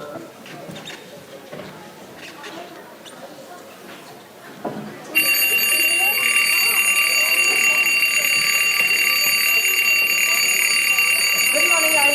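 An alarm clock goes off in the morning with a loud, continuous high-pitched electronic ring that starts abruptly after a stretch of quiet room noise and keeps going.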